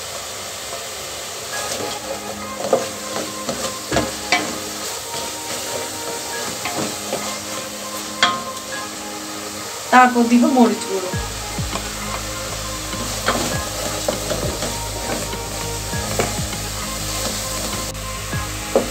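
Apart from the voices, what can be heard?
spices frying and being stirred in a pan for vegetable biryani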